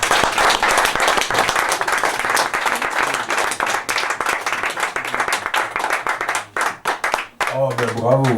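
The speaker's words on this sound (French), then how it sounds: "Oh ben bravo, vous applaudissez cette chanson" An audience applauds a song with dense, sustained clapping that fills the clip, thinning out near the end as a voice begins speaking.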